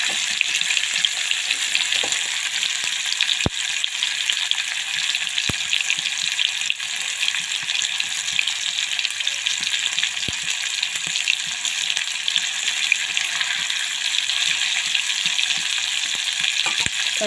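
A mixture frying in hot oil hisses with a steady, dense sizzle at close range, a few sharp pops and crackles breaking through the continuous roar, with no talking.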